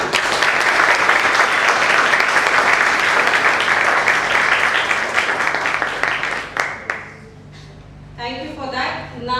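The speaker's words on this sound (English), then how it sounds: "Can we hear a round of applause for her?" A book-reading audience applauds for the author Meeti Shroff Shah, a dense, steady round of clapping that carries for several seconds, then breaks off abruptly and leaves scattered claps under a brief murmur of talk.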